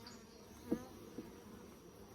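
Honeybees drone softly around a brown hive as its lid comes off, a faint steady insect hum with a couple of light knocks of the box.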